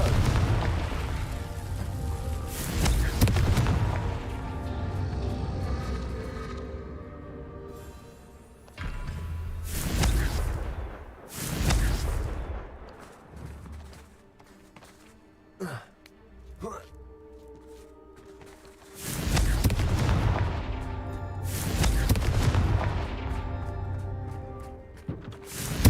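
Confringo spell explosions in Hogwarts Legacy sound as several booming blasts with rumbling tails, clustered in loud bursts with quieter gaps, while a person talks.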